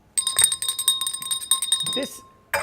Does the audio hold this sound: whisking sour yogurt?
no